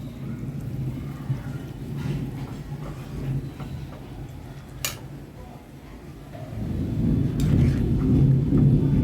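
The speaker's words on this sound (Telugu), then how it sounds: "ఉరుములు ఉరుముతూ ఉన్నాయి." Thunder rumbles low and far off during rain in Vijayawada, swelling and fading under a steady wash of rainfall, with a couple of sharp ticks partway through.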